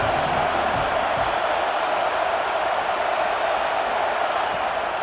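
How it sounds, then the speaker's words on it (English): Steady, loud stadium crowd roar in a college football video game, Appalachian State at Michigan, swelling as the home crowd backs the defense on third down, a continuous wash of cheering with no distinct voices. "Decibels rising as the crowd gets behind this defense on third down."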